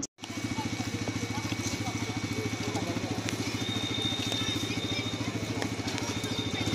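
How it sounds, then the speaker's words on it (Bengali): A motorcycle engine runs close by in the rain with a steady, pulsing low rumble as it pulls away, over a constant hiss of falling rain. "অনেকক্ষণ ওয়েট করার পরে শেষমেশ বাইক নিয়ে বেরোলো।"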